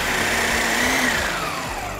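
A small electric chopper whirs at high speed, a steady motor whine with a slowly falling pitch and a low rattle underneath.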